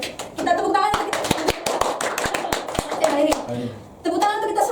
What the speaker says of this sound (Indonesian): Oke, kita tepuk tangan untuk kita.